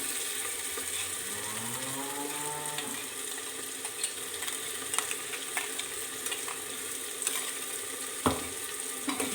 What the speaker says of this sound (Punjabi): ਲਸਣ ਅਦਰਕ ਦੀ ਪੇਸਟ ਨੂੰ ਆਪਾਂ ਚੰਗੀ ਤਰ੍ਹਾਂ ਥੋੜਾ ਜਿਹਾ ਭੁੰਨਾਂਗੇ